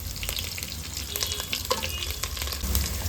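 Curry leaves crackling in hot oil alongside browned garlic for a Coorg-style bamboo shoot curry, a close, busy sizzle with sharp pops and spatula stirring, no voices.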